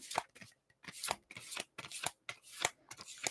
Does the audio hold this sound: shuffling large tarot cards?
yes